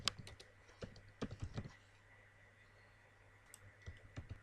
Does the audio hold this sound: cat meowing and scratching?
no